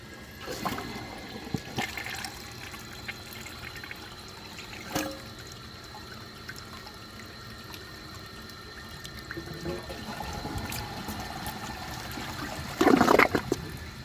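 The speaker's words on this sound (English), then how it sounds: "I'm going to wait for the tank to refill and then I will give it another flush." A 2012 Glacier Bay all-in-one toilet flushes, first a burst of rushing water and a swirl, then a long stretch of trickling refill, with a short loud gurgle near the end, close and alone.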